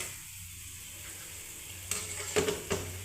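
Banana bondas frying in hot oil, a soft continuous sizzle that swells into a few brief louder bubbling bursts near the end, close by with no talking.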